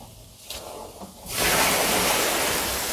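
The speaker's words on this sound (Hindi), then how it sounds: "थोड़ा और पानी में इसमें डाल देता हूँ।" Water poured onto a burning object sets off a sudden loud, broad hiss that swells after a quiet start and holds steady like rushing steam.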